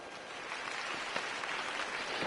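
Steady, dense applause from a crowd at a gathering in Wayne's home in Batman: The Telltale Series, a continuous even wash of clapping with no distinct individual claps and no voices.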